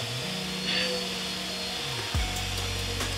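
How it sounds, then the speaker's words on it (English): Vacuum cleaner running nearby in a home, a steady mid-loud droning whine that drops in pitch once and then settles again at a lower tone, with no talk over it. "My dad is vacuuming right now."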